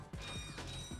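Bolts collected in the Ratchet and Clank video game give a quick run of bright metallic clicks and ratcheting chimes, a short, dense, mechanical rattle that is close and clear.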